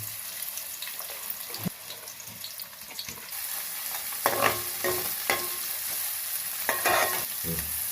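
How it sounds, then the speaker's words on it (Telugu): Mustard seeds and onion pieces crackle and sizzle in hot oil for an Andhra-style brinjal fish curry, a continuous fry broken by scraping stirs and a few louder clatters of a spoon against the pan, with no one talking. "ఇప్పుడు ఆవాలు వేస్తున్నాను వేస్తున్నాను ఉల్లిపాయ ముక్కలు"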